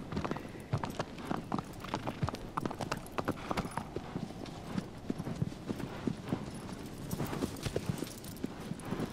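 Horse hooves in the video game Shadow of the Colossus: a steady, continuous clip-clop of galloping hooves running throughout, fairly quiet, with occasional faint speech.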